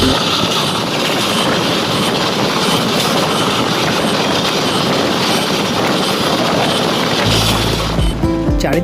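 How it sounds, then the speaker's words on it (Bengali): A passenger train bound for Digha rolls along at speed, heard from on board as a loud, continuous rumble with rattling wheels, shifting to a low steady hum near the end. "আমাদের ট্রেন ছেড়ে দিল দীঘার উদ্দেশ্যে"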